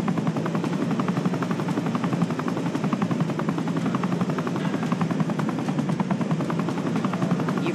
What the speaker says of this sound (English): steer the chopper to the glowing circle up ahead